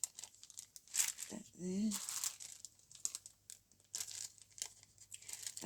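Small vellum envelopes crinkle and rustle as they are handled, light papery crackles and short brushing sounds coming in bursts close by, with a person speaking briefly between them.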